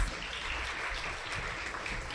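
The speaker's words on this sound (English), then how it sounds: "Give them a big hand of applause." Applause from an audience at a college foundation day ceremony, a soft, distant, steady patter of many hands clapping with no voices over it.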